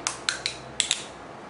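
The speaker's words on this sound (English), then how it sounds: "I will open it now for the first time." A store-bought bottle of demineralized water being opened for the first time, giving five sharp clicks and crackles of the cap seal breaking in quick succession, close and clear with no talking.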